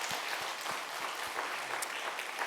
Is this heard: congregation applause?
yes